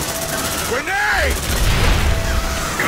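Grenade explosion in the sci-fi video game Aliens: Dark Descent, a heavy rumbling boom amid dense gunfire and game noise, with a chirping alien-like tone and voices mixed in, continuous and loud.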